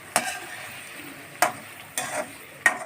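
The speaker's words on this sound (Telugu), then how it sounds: "ఇలాగా కొంచెం దోరగా వచ్చేలాగా వేయించుకుందాం" Curry base frying with paneer chilli masala mix and garam masala, a soft continuous sizzle broken by four sharp, close scrapes of a spoon against the pan, with no one talking.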